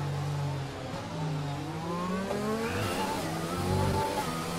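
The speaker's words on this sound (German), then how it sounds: "Also, ich versuche natürlich jetzt ein bisschen Gas zu geben." An F1 car in the racing game F1 2020 during qualifying at Abu Dhabi, its engine note climbing through several gear shifts as it accelerates, loud and continuous with no talk.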